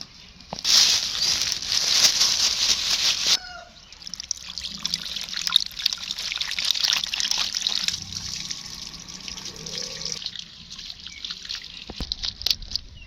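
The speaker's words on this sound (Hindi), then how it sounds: "जी तो चिकन हमने धो लिया है।" Tap water runs and trickles steadily while raw chicken is washed in a kitchen, a loud splashing stream at first, then a softer uneven dribble and patter with no talking.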